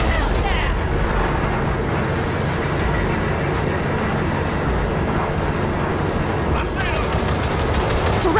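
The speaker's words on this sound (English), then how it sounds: "V, shoot out the damn coupler." Sustained gunfire aimed at a train coupler in the video game Cyberpunk 2077, a loud continuous rattle of shots over rumbling train and engine noise, with voices talking over it.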